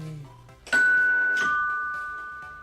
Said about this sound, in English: that's a doorbell sound if I ever heard one.